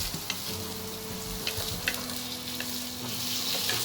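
Roast pork stir-fried in a wok with garlic oil, a moderate continuous sizzle broken by occasional scraping stirs and light clinks, with no voices.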